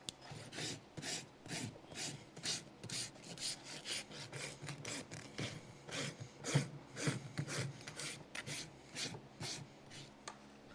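Farrier's rasp filing a young horse's hoof with steady, rhythmic back-and-forth strokes, close and fairly loud, repeating about once a second with no talk.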